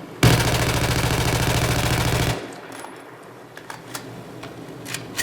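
Automatic rifle fired in one sustained burst with recoil control in Battlefield 4, a loud rapid rattle for about two seconds, then faint clicks and ticks.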